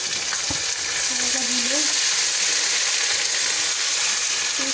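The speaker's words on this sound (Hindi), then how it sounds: "अब आप इसके अंदर डालें अदरक लहसुन का पेस्ट," Golden-brown onions fry in hot oil as ginger garlic paste is added for a chicken masala kaleji, giving a steady close sizzle with stirring scrapes and a faint voice murmuring beneath.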